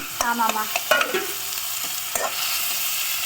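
Tomatoes dropped into a hot pan with oil, green chili and dried red chili for traditional home cooking, followed by steady sizzling and some stirring scrapes, with brief voices over the start.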